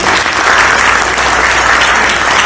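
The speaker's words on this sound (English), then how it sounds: "A big clap for them" An audience at a quality improvement leadership forum claps for the panelists, with sustained, dense applause close and loud throughout, with no pause.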